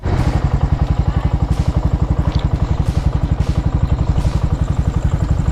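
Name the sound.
motorcycle engine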